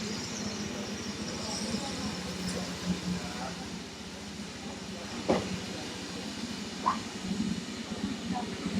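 A train pulls into a station with a steady low rumble, rhythmic wheel clatter and a hiss of air, plus a few sharp squeals and clanks, while people talk faintly nearby.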